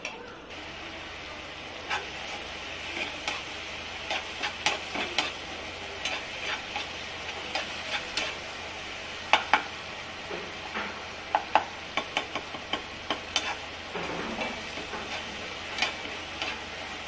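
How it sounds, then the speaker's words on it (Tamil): Onions and tomatoes sauté in a pan for a village-style fish curry. A faint, low sizzle runs beneath irregular clicks and taps of a spatula stirring, with louder knocks clustered in the middle. "சேர்த்துட்டு நல்லா வெங்காயம் தக்காளி நல்லா வதங்கட்டும்"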